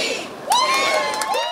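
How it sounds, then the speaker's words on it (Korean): Cheering crowd of about a hundred people, mostly in their twenties and thirties, whooping and shouting as the doors of the Apple store in Myeongdong, Seoul open at 8 a.m. for a new iPhone launch, loud rising cheers close by. "아침 8시 매장 문이 열리자 환호와 함께 매장에 쏟아져 들어갑니다."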